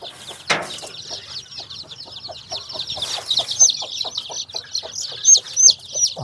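Chickens cluck and chatter repeatedly, close and lively, with a loud squawk near the start and bright chirps later, with no talk over them.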